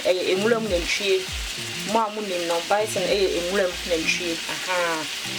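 Bison meat fries in avocado oil, with a steady sizzle running under someone talking for the whole stretch.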